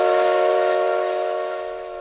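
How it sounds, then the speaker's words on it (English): The Polar Express steam train lets out a loud, steady whistle blast with several layered tones that holds for about two seconds and fades slightly at the end. "The Polar Express let out a loud blast from its whistle"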